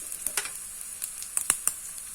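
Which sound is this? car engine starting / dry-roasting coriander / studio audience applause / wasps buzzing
dry-roasting coriander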